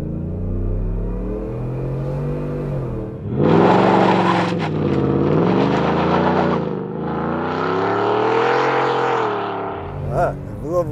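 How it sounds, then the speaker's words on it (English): A 700 hp supercharged V8 Ford F-150 idling, then revving up through several rising pulls with a high supercharger whine over the deep engine note, loud and close, with faint voices near the end. "I just want to hear the supercharger whine."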